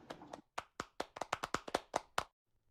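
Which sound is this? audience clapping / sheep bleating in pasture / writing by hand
audience clapping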